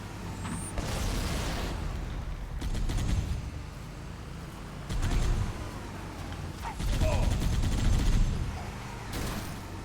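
Gunfire in Halo: Combat Evolved Anniversary, dense rolling bursts and clattering mechanical noise swelling and fading in waves over a steady game background.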